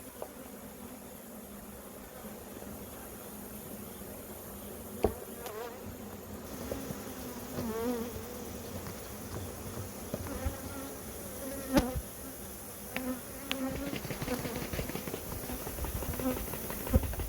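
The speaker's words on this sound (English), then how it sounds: "Here we got our bees." A steady hum of many buzzing honeybees at an open hive fills the background, with occasional clicks and knocks of handling nearby.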